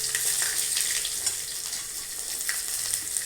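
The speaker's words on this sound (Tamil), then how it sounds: "அந்த எண்ணெயில் அந்த பூண்டை தட்டி போட்டோம்னா நல்ல வாசம் வரும்" Crushed garlic and curry leaves frying in hot oil, giving a steady close sizzle with faint crackles, no voices.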